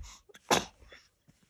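A single sharp sneeze bursts out, preceded by a brief sharp inhale, in an otherwise quiet room.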